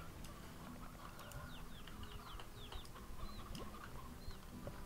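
Chickens cluck and chirp in the video game Slime Rancher, in a busy run of short, high, faint calls over a low, continuous game background.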